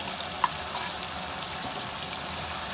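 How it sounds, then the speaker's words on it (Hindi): Beef frying in a karahi with ground coriander, red chili, turmeric and salt makes a loud, continuous sizzle with a few brief scraping stir sounds, with no talking. "इसको मिक्स कर लेते हैं और 1 से 2 मिनट अच्छी तरह भून लेते हैं मसालों को भी।"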